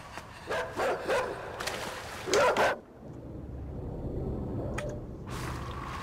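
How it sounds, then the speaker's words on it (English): A dog in the dark side-scrolling game Inside gives a few sharp barks early on, fairly close and loud, then the scene falls to a low rumbling ambience with an occasional faint click. "Was that the dog that was following me before?"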